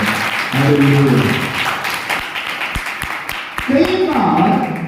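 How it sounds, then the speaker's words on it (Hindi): A church congregation claps in praise during a Hindi sermon, a dense patter of hands running steadily beneath the preacher's voice, which is heard at the start and end. "ताली बजा के परमेश्वर को धन्यवाद।"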